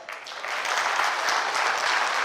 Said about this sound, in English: Please clap for this guy.